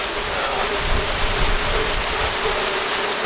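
Rain picks up to a steady, dense hiss of drops falling around a roadside shelter during a bikepacking trip in Croatia, loud and continuous without talk.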